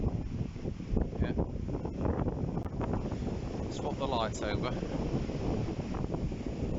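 Strong storm wind during Storm Arwen buffets the microphone in a steady, loud roar that runs the whole time, with people talking over it.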